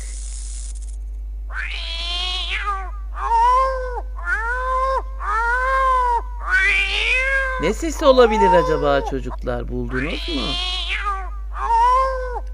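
An agitated cat yowls in a series of drawn-out, rising meows, with one harsh growling hiss in the middle; a voice speaks briefly at the start.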